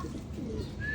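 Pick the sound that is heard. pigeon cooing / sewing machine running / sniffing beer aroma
pigeon cooing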